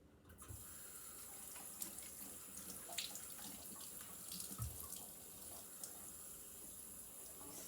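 Tap water runs steadily into a kitchen sink while apples are washed, a continuous soft splashing stream with occasional clinks, moderately close and without talk.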